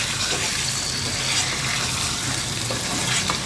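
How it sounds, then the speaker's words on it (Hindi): Chicken pieces frying with ginger in a pan for a qorma, a loud close, continuous sizzle and crackle of hot oil with some stirring, no one talking. "अदरक के 1 आध मिनट भूनने के बाद हम इसमें चिकन ऐड कर देंगे। अब हमने इसकी अच्छे से भुनाई करनी है।"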